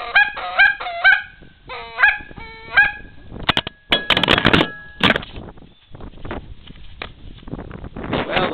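A Super Mag goose call blown outdoors in strong wind, giving a few loud honks in short bursts, then gusting wind noise and scattered, rougher calls.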